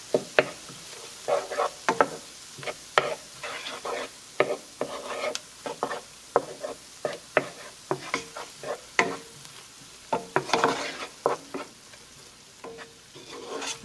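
Margarine sizzles in a pan for Mexican-style spaghetti, a soft sizzle broken by frequent stirring clicks and scrapes in an uneven rhythm, no talking.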